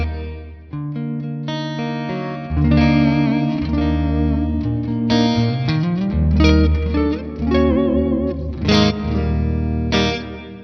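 A guitar is played through an ALABS reverb pedal on its hall setting, sustained chords and single notes ringing out with a long, spacious reverb tail and a chorus-like shimmer, alone without talk.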